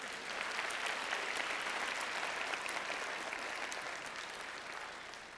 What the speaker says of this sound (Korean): 박수 한번 치셔야죠.